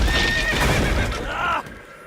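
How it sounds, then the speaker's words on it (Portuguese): A horse in the video game Kingdom Come: Deliverance II gives one loud whinny up close. Hooves clop underneath, and the sound drops off after about a second and a half. "O cavalo lá."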